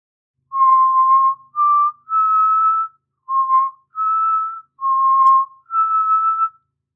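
Someone whistles a short melody of seven clear, sustained notes separated by brief pauses, close and alone against silence.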